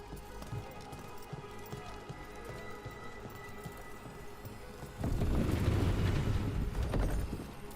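Steady rain falls in Dragon Age: The Veilguard, a soft continuous hiss that swells noticeably louder and denser partway through, with no talk over it.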